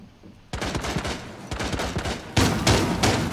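Rapid bursts of automatic gunfire in Rainbow Six Siege during a House team deathmatch, loud and close, in several dense volleys with brief gaps between them.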